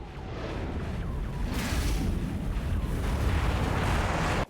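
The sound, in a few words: explosion of boss in a video game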